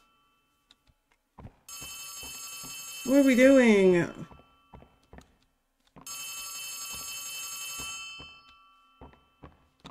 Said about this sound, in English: The phone is so loud, bro.